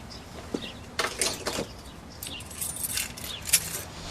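Car keys jangle in a few short metallic bursts, close and fairly loud, with soft rustling between them and no talking.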